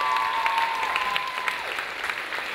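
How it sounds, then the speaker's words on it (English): A crowd at an awards event applauds steadily, a continuous dense patter of clapping hands at moderate distance with a faint voice briefly audible over it. "Come on, people, give them a clap."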